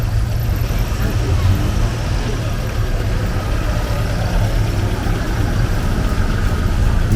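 A Mercedes-Benz 190 D diesel car engine runs steadily close by as it departs from a rally start, a continuous low rumble with road noise throughout.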